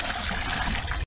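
Acid pours in a steady splashing stream into the water of a small white plaster spa, a brief continuous gush that cuts off abruptly.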